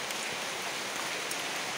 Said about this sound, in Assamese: এতিয়া মই নামিম বৰষুণত তিতিছোঁ বৰষুণত গৈ আছোঁ